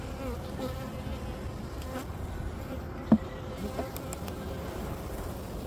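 Honey bees buzz steadily during a winter beehive inspection, a dense continuous hum with one sharp click partway through.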